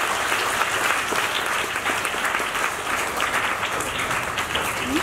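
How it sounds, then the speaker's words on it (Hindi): A crowd at a short-film event gives the guests a steady, loud round of applause that fills five seconds without letup. "हमारे सभी गेस्टों के लिए एक बार दिल से ताली बजा दो जरा प्लीज।"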